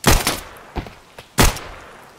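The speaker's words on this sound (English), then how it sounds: "Someone's shooting at me." Gunfire in the shooter game Escape from Tarkov, a few loud sharp shots with one quick double burst at the start and two more spaced shots afterward, close and punchy.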